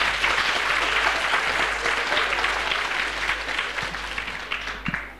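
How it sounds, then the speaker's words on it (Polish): An audience at a lecture on science and religion breaks into dense, sustained applause close by. It fades slightly toward the end, where a few scattered claps stand out. "why are you clapping?"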